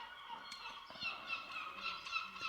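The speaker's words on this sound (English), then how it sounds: "Hear the seagulls? They're really loud today." Seagulls call loudly outdoors, a steady chorus of harsh, overlapping cries with several sharper calls standing out, continuous across the whole stretch with no talking.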